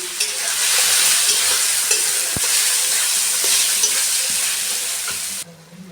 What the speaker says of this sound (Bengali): ভালো করে একটু কষিয়ে নেব যেটা কাঁচা গন্ধ চলে যায়